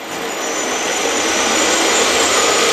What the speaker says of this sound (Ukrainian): Давайте зараз дам більші оберти